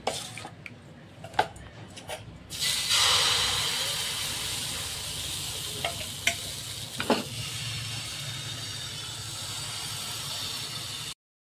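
Pitha batter, a spoonful poured into a ghee-brushed pan while making Poush Sankranti sweets, sets off a steady close sizzle that swells after a few seconds, with occasional utensil taps against the pan.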